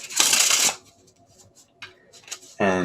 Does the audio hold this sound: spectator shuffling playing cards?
yes